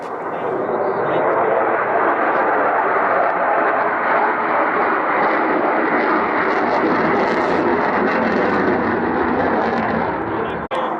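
Sukhoi fighter jets flying a combat air patrol, a loud continuous roar of jet engines that fills the whole stretch at even strength, with a brief dropout at the very end.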